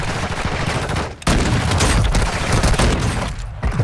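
Loud, dense gunshots in Call of Duty Warzone Mobile, a continuous rattle of fire with a short dip near the one-second mark before the shooting resumes, close and heavy.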